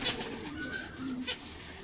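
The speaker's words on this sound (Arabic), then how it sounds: "واسمع صوت الطيور" Soft, low cooing from pigeons, faint and close, with a couple of brief higher chirps and a quiet background hum.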